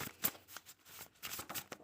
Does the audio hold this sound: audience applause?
no